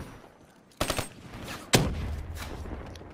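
Gunfire from Call of Duty multiplayer, with two sharp bursts of shots that each fall away into a rumbling tail, set against a low background.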